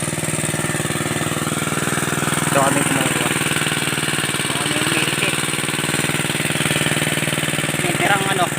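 A small engine powering an irrigation water pump drones steadily and loudly throughout, with a person speaking briefly over the running motor.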